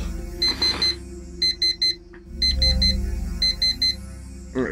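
An alarm clock in the video game Actual Sunlight rings in rapid bursts of electronic beeps, repeating in groups of four with short pauses between, over a low steady hum.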